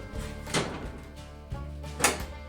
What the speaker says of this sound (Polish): w tej chwili drzwi po prostu trochę hałasują